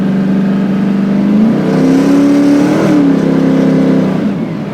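A 1972 Dodge Challenger with a 426 HEMI V8 revs hard and close, its deep rumble swelling into a rising, steady growl that holds for several seconds before sagging back to a rough idle.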